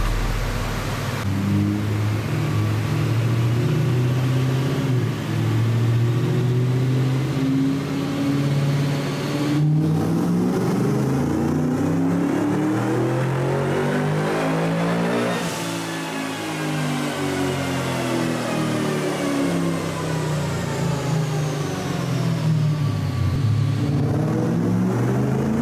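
A supercharged Lexus IS350 revs hard on a dyno, its engine note climbing and falling in long sweeping pulls, loud and close, with a brief dip midway before winding up again.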